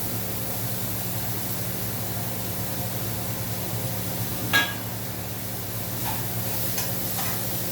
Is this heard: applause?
no